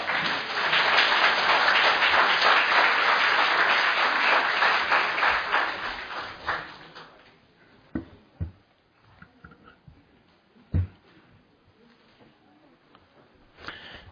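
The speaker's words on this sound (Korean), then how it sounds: "큰 박수 부탁드립니다." An audience at a Korean panel lecture applauds with dense, loud clapping for about seven seconds, then it fades to scattered claps and a few knocks in a quiet room.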